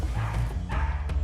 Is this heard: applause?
no